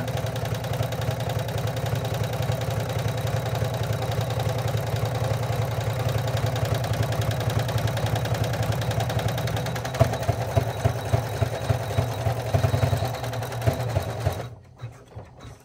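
An embroidery machine stitches a vinyl water bottle sling bag, its steady rapid mechanical hum running continuously and close, then shifting to a choppier, pulsed rhythm of travel stitches near the end before stopping abruptly.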